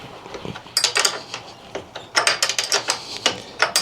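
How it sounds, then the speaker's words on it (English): A wrench works loose the top rear shock bolt on a Supermach SM01 electric bike, giving a run of quick metallic clicks and rattles in irregular bursts, close and moderately loud, with no speech. "So first thing we're doing is taking off this top shock bolt"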